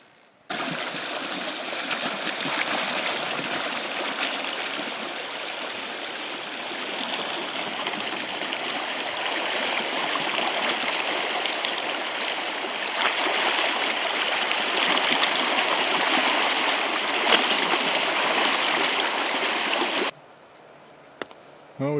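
An Alaskan river rushes close by in a loud, continuous roar of flowing water, holding steady for about twenty seconds before a brief drop.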